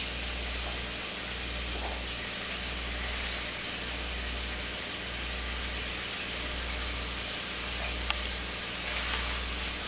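Sliced green, red and orange peppers hitting browning meat in a hot pan, giving a steady broadband sizzle with a faint low hum underneath, continuous and moderately quiet, with no talk.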